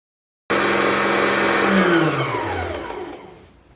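A Singer Tradition 2277 sewing machine winds a bobbin: the motor whirs in abruptly at full speed, and its pitch and loudness sink as it slows toward a stop.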